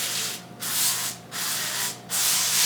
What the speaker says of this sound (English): Spray with some avocado oil.